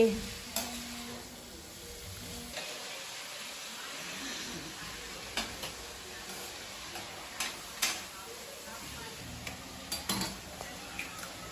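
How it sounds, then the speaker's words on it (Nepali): Vegetables for chicken chow mein fry quietly in a pan, a low steady sizzle broken by scattered spatula scrapes and light clinks of the utensil against the metal. "भेजिटेबललाई चाहिँ एकदम मजासँग फ्राई गर्नुपर्छ"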